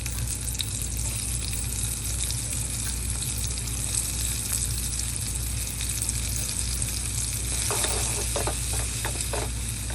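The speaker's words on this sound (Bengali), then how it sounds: "আমি চুলায় পরিমাণ মতো তেল দিয়ে ওখানে পেঁয়াজ দিয়েছি। পেঁয়াজের শব্দটা আপনাদেরকে শুনিয়েছি" Onions sizzling and frying in oil on a stove for bitter gourd (karela) fry, a steady dense crackle with a few sharper spatters toward the end, no voices.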